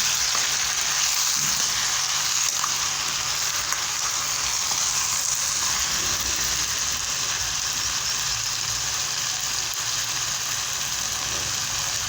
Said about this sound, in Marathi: हे सर्व भाज्या मिक्स करून घेऊ